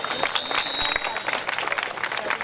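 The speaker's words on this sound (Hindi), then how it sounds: "तो उन्हें तालियों से हमें सम्मानित करना चाहिए।" Crowd applause at a ceremony honouring a free ambulance service team, a brief burst of mixed clapping with some voices in the background.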